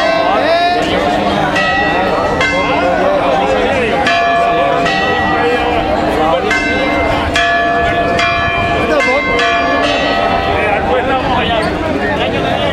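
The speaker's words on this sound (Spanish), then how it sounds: "aquí siguen las campanas" Church bells peal loudly and continuously, with repeated rhythmic strikes and long ringing tones layered over background crowd murmur at a cadet race event.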